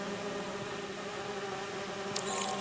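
A steady insect drone of bees buzzing in the video game Marvel's Spider-Man 2, holding an even hum throughout with a brief brighter burst toward the end.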